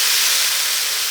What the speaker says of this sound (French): je continue à cuire mes viandes